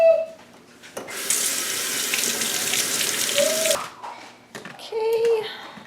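Tap water runs steadily into a sink while sweet potatoes are scrubbed beneath the stream, loud and close for a few seconds, then it cuts off, followed by clatter and a brief second burst of water.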